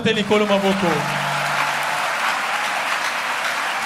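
A church congregation applauding, with a dense wash of clapping that continues throughout, while a voice sings or calls out over it at the start.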